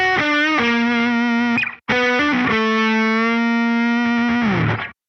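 Distorted electric guitar playing half-step bends from a guitar solo, two sustained bent notes with a short break between them, loud and alone, the second held long before sliding down and cutting off.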